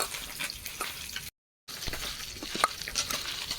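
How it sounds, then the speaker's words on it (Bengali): Mashed red lentil paste is kneaded together with other ingredients by hand, giving close, soft squelching and sticky slapping sounds in an uneven rhythm, broken by a brief silent gap. "ভালো করে সব কিছু উপকরণ দিয়েছি ভালো করে মেখে নিচ্ছি"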